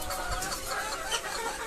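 Hens on a small poultry farm cluck continuously at close range, a busy overlapping chatter of fowl with no talking.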